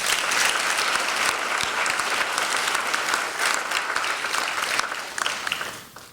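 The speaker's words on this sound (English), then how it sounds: "Give applause." Broad, sustained applause fills a college investiture ceremony after local mayors and officials are introduced, a thick continuous clapping that thins and fades over about six seconds.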